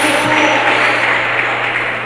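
Sustained applause from a church congregation offering praise to God during a Portuguese-language sermon, a dense steady wash of clapping that stays loud and even throughout with no speech over it.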